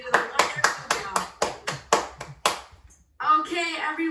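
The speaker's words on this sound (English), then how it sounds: "I would like to give a huge round of applause to Sean." At an online Gavel club contest, about ten evenly spaced, sharp hand claps ring out clearly from one nearby person, then a voice starts speaking after a short pause.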